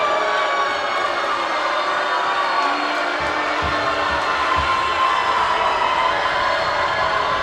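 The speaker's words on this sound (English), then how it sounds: "And now the boos come back out here from this crowd." Basketball crowd at a WPIAL boys high school game, McKeesport at Gateway, booing in a steady, loud, continuous roar of many voices filling the gym throughout.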